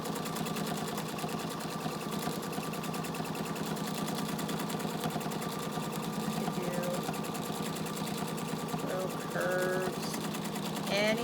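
A Pfaff Expression 720 sewing machine stitches a meandering stipple with a fast, steady mechanical whir and rhythmic needle clatter that keeps going throughout, loud and close.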